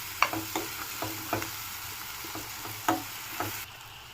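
Onions and a couple of dry red chilies fry in a pan with a low, steady sizzle, broken by several soft scrapes and knocks of a spoon stirring them, close by and with no talk.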